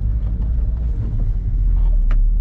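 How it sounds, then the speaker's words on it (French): A 1993 Renault Twingo's 1.2-litre 55 hp Cléon engine runs with a steady low rumble close by, slightly rising toward the end, with no talking. "le bruit particulier de ce moteur Cléon"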